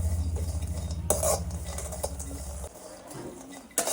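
Dried coconut and peanuts being roasted in a pan over a wood-fired stove, with a spoon scraping and stirring against the metal and a low crackle underneath, plus a couple of sharper clinks.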